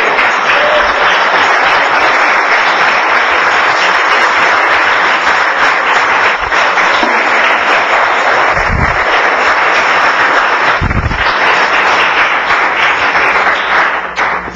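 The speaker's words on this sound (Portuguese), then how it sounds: "Quem entendeu, aplaude." Loud, sustained applause from a large audience fills the whole stretch, a dense continuous roar of clapping that fades slightly at the very end.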